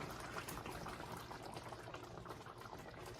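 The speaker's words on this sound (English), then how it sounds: "Now I'm going to pour in 1 cup of heavy cream." Heavy cream poured into a chicken sauce that has been simmering, heard as a steady bubbling, liquid wash close by, continuous and even throughout with no voices.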